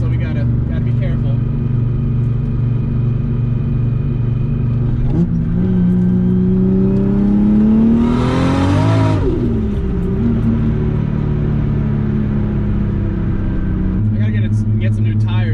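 Toyota Supra with a 2JZ engine running E85 pulls hard on a wet road, its loud interior drone rising through the gears with a shift break midway and a sharp whine peak, while people talk over it.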